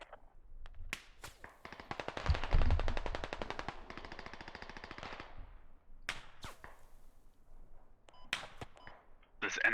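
Gunfire in the Squad video game: a dense burst of rapid automatic fire dominates the middle seconds, preceded and followed by scattered single sharp shots, with voices talking around it.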